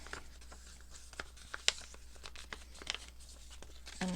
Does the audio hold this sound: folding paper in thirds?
yes